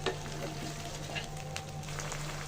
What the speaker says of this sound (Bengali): ভালো করে কাঁচা মশলাটা ভেজে নেব